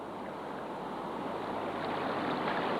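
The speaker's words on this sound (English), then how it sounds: "Further downstream, we came upon a narrow rapid." White water river rapid on the Kafue river in 1978, a narrow rapid with a long chute, heard as a steady broad roar of rushing water, loud and continuous with no voices.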